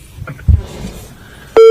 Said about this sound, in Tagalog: Palagay ko, binaba na tayo ng telepono.